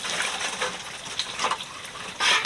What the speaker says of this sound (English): I'll start to get that filled with water.